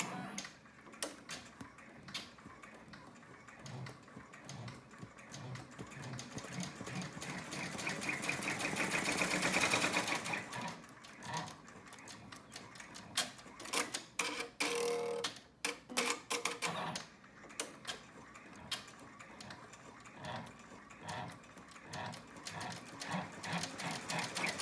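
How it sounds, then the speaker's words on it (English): An embroidery sewing machine stitches a running stitch along both sides of a zipper on a top-zip purse. It makes a rapid, continuous mechanical ticking hum that swells louder midway and then resumes in bursts. No one speaks. "we'll make a running stitch on both sides of the zipper to hold it in place"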